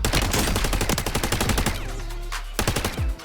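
Rapid automatic gunfire in the video game Warzone, loud bursts of machine-gun shots in fast succession, pausing briefly before another short volley.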